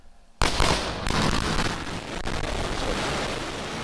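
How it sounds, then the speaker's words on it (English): A sudden loud sonic boom from Falcon Heavy side boosters coming in to land, a sharp heavy crack followed by a second jolt and a long rumbling, roaring tail heard at a distance. "that sonic boom was great for us."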